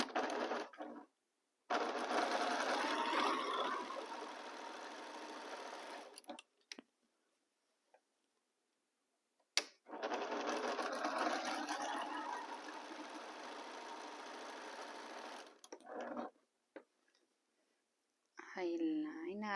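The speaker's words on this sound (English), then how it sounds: "I'm going to join the squares, sewing on the outside lines." A sewing machine joins fabric squares along their outside lines in two long, steady running bursts separated by a quiet pause, close and moderately loud.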